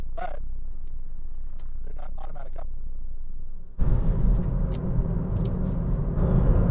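Road noise inside a 2017 Chevrolet Cruze Premier driving on a typical Quebec road: a low, steady rumble of tires and engine, with brief voices over it early, then a sudden jump to a louder, broader roar of tire noise.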